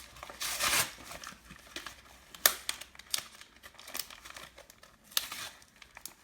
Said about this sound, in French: Alors, on va déjà ouvrir les packs.